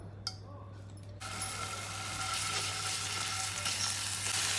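Ginger garlic paste hits hot oil in a pan and starts a sudden, steady sizzle that builds slightly over a few seconds, with a low electrical hum underneath.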